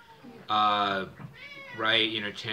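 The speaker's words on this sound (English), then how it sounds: "we got a screaming cat off the side over here" A cat yowls and screams in several long, drawn-out, wavering cries. The calls are close and loud, with short pauses between them.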